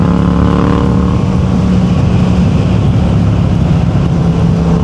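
A 2022 Yamaha MT-07 LAMS motorcycle rumbles loudly and continuously from close by while being ridden, its engine drone steady with buffeting wind noise and no clear rev changes from shifting.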